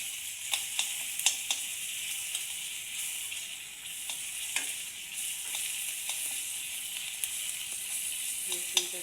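Garlic paste sizzles in a pan with onions that have already browned, making a steady bright hiss broken by occasional sharp clicks and taps from stirring.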